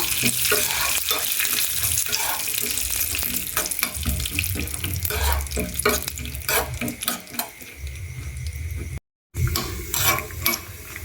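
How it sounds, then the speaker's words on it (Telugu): Frying in homemade ghee for a basundi dessert gives a continuous bright sizzle with stirring and scraping in the pan, fairly loud and close, broken by a brief moment of silence near the end. "నెయ్యిలో వేయించుకొని వేసుకోవాలి"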